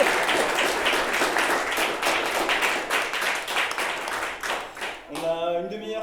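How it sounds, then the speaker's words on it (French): Applause for the speakers at a book talk, a dense round of clapping that thins and tapers off, giving way to a voice speaking at the end. "peut-être salle d'applaudissements pour les intervenants"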